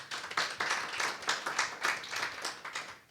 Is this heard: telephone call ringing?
no